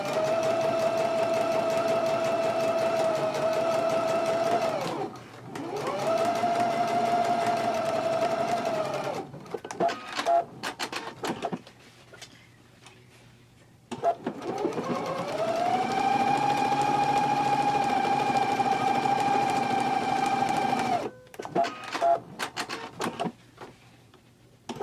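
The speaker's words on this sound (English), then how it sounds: "we can go to the machine now and we can stitch along the sides, the lower edge, as well as the other side along the seam line at a 5/8 inch seam allowance" A sewing machine stitches the side and lower seams of a jacket pocket facing, running in two long steady whirring passes with a brief pause between and some clicking handling noise after each.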